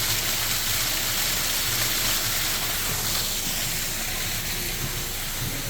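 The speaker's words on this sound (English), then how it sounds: "The waterfall." A waterfall spills beside a small brook at a resort, a dense, steady hiss of falling water close by with no talk.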